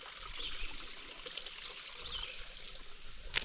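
Steady trickling and pouring of water at a trail water source on the Georgia Pinhoti Trail, a continuous close hiss of running water with no talk.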